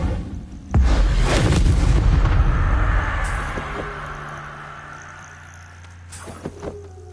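An Incendio fire spell bursts in a wizard video game: a sudden deep boom and roaring whoosh of flame that swells loudly, then slowly fades. A small flare-up follows near the end.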